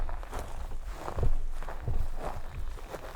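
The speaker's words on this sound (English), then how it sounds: "The only thing you're going to be able to hear are my footsteps, I'm sure." Footsteps tread a rocky mountain trail, a steady walking rhythm of crunching steps with a few heavier impacts, close and moderately loud over faint outdoor ambience.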